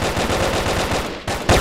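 Rapid, continuous machine gun fire in the online shooter Brick Force, loud and sustained in tight bursts with a brief dip before a final heavy shot.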